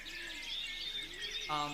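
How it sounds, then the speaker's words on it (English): Birds chirp in a sample played back during a music production session, bright high calls running steadily throughout with a louder burst at the end. "But now there's birds"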